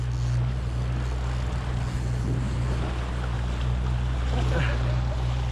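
Outboard motor of a Yellowfin 7000 Southerner fishing boat running steadily at sea, a constant low drone with wind and water noise over it, no talk.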